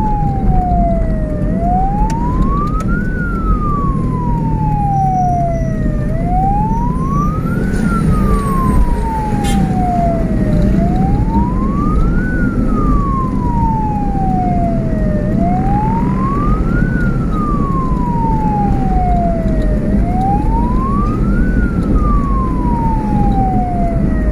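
Ambulance escort vehicles from Garut rush a patient through the dark night from Pangandaran, their loud siren wailing up and down in a steady slow cycle over continuous road and engine noise.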